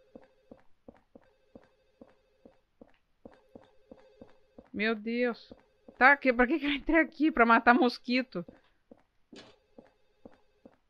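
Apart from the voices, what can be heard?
telephone bell ringing in video game Silent Hill 4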